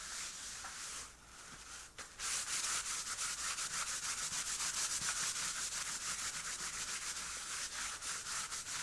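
A paper towel wipes up a mess on an art journal page, making steady, brisk rubbing strokes up close that continue rhythmically after a brief pause near the start.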